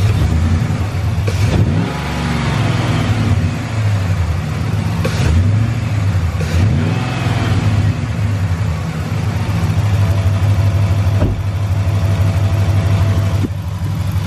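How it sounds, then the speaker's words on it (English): A Hemi Ram truck engine with a cold air intake revs up several times from idle, each loud throttle blip swelling and falling back, heard up close with no talking. "Let's give her a couple revs here."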